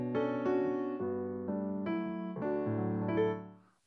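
A Waves Grand Rhapsody piano run through compression plays a steady chordal passage with sustained, evenly squashed notes changing about every half second, close and fairly loud throughout before fading at the end.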